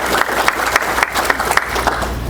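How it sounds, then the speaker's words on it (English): Audience applause from a crowd gathered at an organizational talk, steady and fairly loud with rhythmic clapping peaks throughout. "give yourselves a round of applause"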